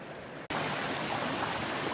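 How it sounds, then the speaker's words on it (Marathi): Clear river water rushes and gurgles in a steady, loud, close hiss after a brief quieter moment and a sharp cut. "नदीचा खळखळणारा पाणी एकदम स्वच्छ"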